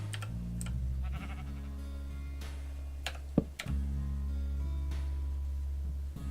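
A video game sheep, one of the pink sheep, bleats in short repeated cries over a steady game soundtrack and clicking, with a sharp tick partway through; no one speaks.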